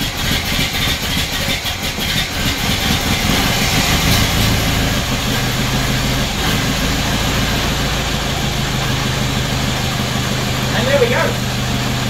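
A Ford Model T engine cranks and starts, then settles into a low, uneven chugging run, heard close by over steady background noise with people speaking.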